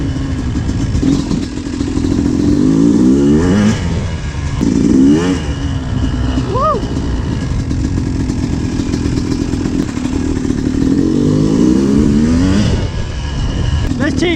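A Yamaha YZ250 dirt bike engine revs up and down close by while being ridden, its pitch repeatedly climbing and falling in strong surges over a steady, loud drone.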